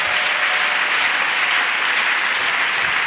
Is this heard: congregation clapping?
yes